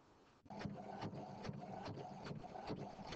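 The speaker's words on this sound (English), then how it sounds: "Once you're happy with your project, you can send it straight to the printer and it will come out just like this." An inkjet-style printer printing a sheet, starting with a click and then a steady mechanical whir with regular rhythmic carriage passes, close and fairly quiet with no talk.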